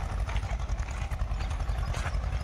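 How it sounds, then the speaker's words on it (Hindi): A tractor engine chugs steadily while hauling sand out of a river, a low, rumbling, pulsing drone heard at moderate distance and fairly loud, with no talking. "ट्रैक्टर से भर भर के रेत इससे बाहर निकाला जा रहा है।"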